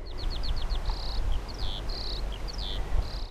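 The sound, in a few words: skylark singing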